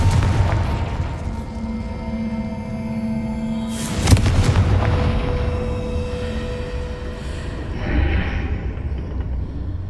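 In the Hogwarts Legacy video game, a Confringo explosion spell goes off as a single sharp boom midway through, over a steady rumble of game music and ambience.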